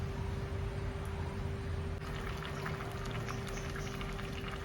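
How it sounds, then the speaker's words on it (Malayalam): Mixed vegetable sambar bubbles in a pot on the stove, a dense continuous rolling boil with soft popping bursts, close and steady throughout. "ഇത് നന്നായി തിളച്ചിട്ടുണ്ട്"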